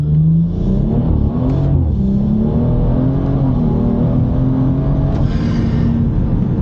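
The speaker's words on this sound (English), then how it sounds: "Let's do some pulls on this road. Second gear, here we go." A tuned car pulls hard in second gear, its engine climbing steadily in pitch with a loud, continuous roar heard from inside the cabin, no talk over it.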